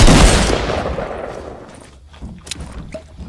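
Gunfire in the video game Fortnite, a loud burst of rapid shots up front that fades into a rumbling tail, followed by a few softer isolated game sounds.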